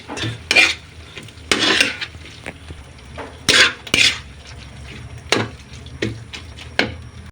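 A utensil stirs salted food in a pan, scraping and clinking against the metal in irregular bursts over a faint sizzle. The stirring is close and there is no talk.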